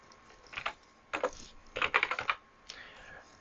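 Typing a Java filename on a Mac computer keyboard: a few quick bursts of crisp key clicks close by, with short pauses between groups of keystrokes in a quiet room.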